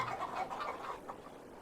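Chickens in the video game Farthest Frontier cluck and coo softly in a few short calls, faint and close, with no talking.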